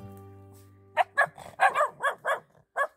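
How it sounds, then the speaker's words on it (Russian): A stray dog being fed outdoors barks in a quick series of sharp, close woofs after a low growl, with short pauses between the barks. "Смотри, он рычит."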